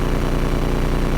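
A 2003 Mustang GT convertible V8 fitted with MagnaFlow Series 40 mufflers idles loud and close, a steady deep rumble with no revving throughout.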